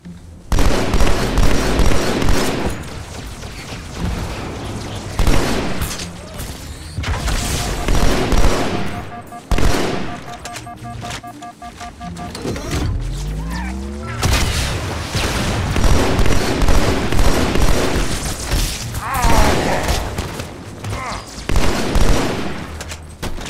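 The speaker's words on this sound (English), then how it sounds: "Oh, friggin' beam rifles." Halo beam rifle fire in the Delta Halo level of Halo: Master Chief Collection, among dense bursts of loud gunfire and blasts, with sharp repeated cracks and booms through a chaotic firefight.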